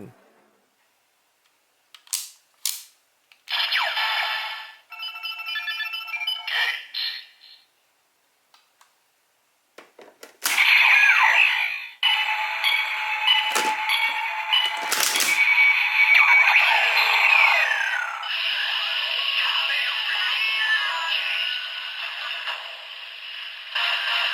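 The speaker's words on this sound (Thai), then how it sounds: "และนี่ก็เป็นเสียงในการแปลงร่างเป็น Commander Guest" A Kamen Rider Geiz DX toy belt from a memorial ridewatch set plays its Commander Geiz transformation effects: clicks and short electronic bursts, then a loud sustained stretch of bright synthesized sound and music lasting to the end.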